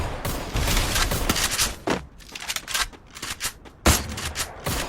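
Rapid bursts of gunfire in a shooting video game, dense and close with sharp repeated shots and brief pauses between volleys.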